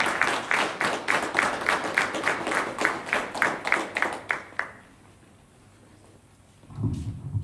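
A crowd at a keynote talk claps in a steady, rhythmic burst for several seconds, then falls quiet before a voice begins.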